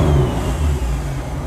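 A tuned 1000HP Nissan March engine revs up close and loud, a brief rough, throaty roar that holds steady with slight dips over a second and a half.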